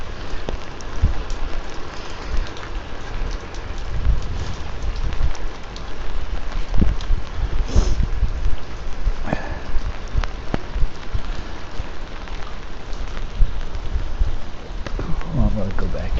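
Steady rain drums on a military-style poncho up close, with scattered heavier drop hits and a brief rustle near the end, no talk heard.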